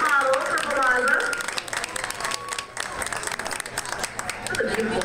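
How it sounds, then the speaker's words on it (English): At a fashion show, the audience applauds a model on the runway with lively clapping, and voices and cheers mix in over the brief burst. "Give her an applause."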